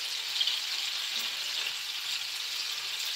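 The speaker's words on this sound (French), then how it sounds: "Alors, ici, le beurre fond." Butter melts in a pan with a soft, even sizzle and steady crackle, quiet and continuous with no voices, while strawberries flambéed with green pepper are prepared.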